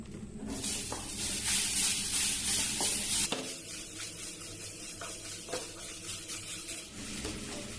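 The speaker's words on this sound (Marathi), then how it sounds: "आता आपण ते टाकून कारलं चांगलं खरपूस परतून घेऊया" Bitter gourd hits hot oil with a sharp hiss, then sizzles steadily while being stirred, with occasional scraping clicks in the pan close by.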